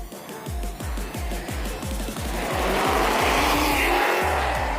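A drag car launches on Nitto NT555RII drag radial tires, its engine revving hard through a rapid stutter of pulses before rising into a loud, sustained roar with tire noise, close by.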